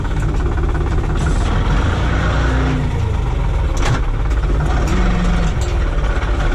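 A tractor engine runs steadily and loud while hauling a cultivator through corn and sesame fields, a continuous low rumble with a constant drone throughout and no pauses.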